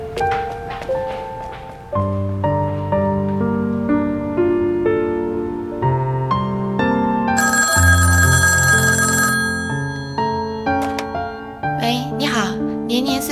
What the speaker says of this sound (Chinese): 啊， 电话。